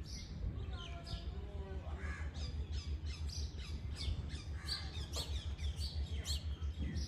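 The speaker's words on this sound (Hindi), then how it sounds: "चिड़िया की आवाज़ा, कवें की आवाज़ा, मुख्तलिफ परिंदे अपना अपना म्यूजिक बजाने पे" Crows caw repeatedly and sparrows chirp throughout, a busy outdoor chorus with a steady background hum and some talking.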